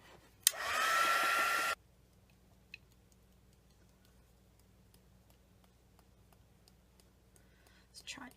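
A hair dryer blasts loudly for about a second over bleached paint on an artist trading card, then cuts off, leaving near-silence with faint ticks and a soft rustle at the end.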